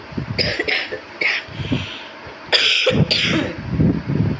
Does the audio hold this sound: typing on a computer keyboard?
no